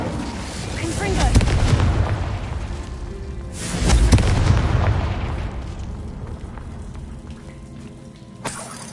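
Two heavy booming blasts from the Confringo spell in the wizarding game Hogwarts Legacy, a few seconds apart, each swelling into a rumbling roar before fading. A small pop comes near the end.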